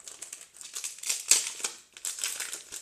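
Plastic foil wrapper of a Pokémon trading card booster pack being torn open, close crinkling and rustling in short bursts with a brief sharper rip, no talk.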